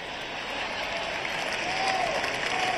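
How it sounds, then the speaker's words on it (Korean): Dense, steady applause from a large crowd of Donald Trump supporters applauding him, sustained throughout without breaks, with faint voices mixed in. "트럼프 대통령을 지지하는 수많은 사람들은 그에게 박수를 쳤습니다."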